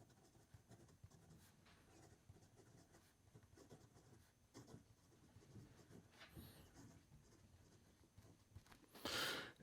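A Montblanc Enzo Ferrari fountain pen nib writes across paper, giving a soft, steady scratching with short strokes and pauses. A brighter burst of rustle near the end sounds close and fairly quiet.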